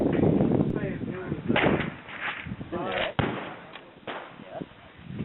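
Mosin Nagant M91/30 rifle fired at the Quail Creek range: sharp, loud reports ring out a few times, with people talking between the shots.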